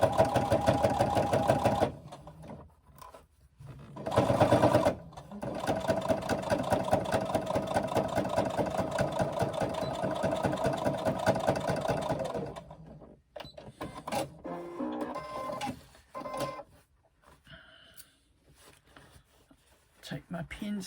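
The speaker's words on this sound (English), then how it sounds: "I'm now going to come back and redo that seam that I said I'd missed." A sewing machine stitches a handbag seam, first in two short bursts and then in a long steady run of about seven seconds, ending in scattered clicks and brief stops.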